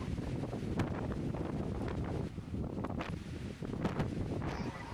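Strong wind gusts roar through an island storm at a float by the water, a loud continuous rushing with buffeting against the microphone and no voices.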